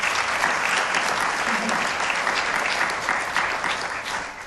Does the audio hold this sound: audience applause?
yes